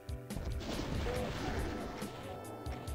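Chaingunner enemies firing in the first-person shooter Doom: a dense, continuous clatter of rapid gunfire mixed with crashes and booms throughout the short stretch.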